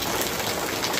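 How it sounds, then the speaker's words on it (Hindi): Steady rain hissing down on a surface, a dense, continuous wash of drops close by with no voices. "तो ये है बारिश"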